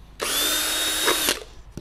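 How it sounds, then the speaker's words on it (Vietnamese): Power drill boring a few holes for a vegetable-growing setup, one steady loud whine lasting about a second with no talk over it. "các bạn khoan cho mình vài mũi ở đây đi"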